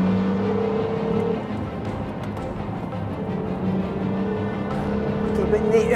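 Honda Civic Type R engine pulling hard on a race track, a steady loud drone with rising harmonic tones from the car's cabin, heard under continuous talking throughout.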